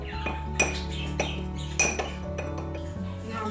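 Metal utensils clink steadily against a bowl while spices for curried sausages are mixed, with several sharper clanks standing out over a low steady hum.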